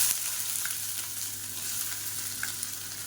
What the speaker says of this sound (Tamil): எண்ணெய் நல்லா சூடாயிருச்சு ஒரு கைப்பிடி அளவுக்கு பொடியாக நறுக்குன்னா பெரிய வெங்காயம் சேர்த்துக்கலாம்